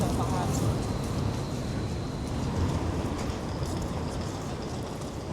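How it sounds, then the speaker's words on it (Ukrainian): A green-yellow tram rolls past on a Poznań street, a dense continuous rumble and rattle of wheels on rails, loud and close throughout. "Ось такий зелено-жовтий познанський трамвайчик проїхав."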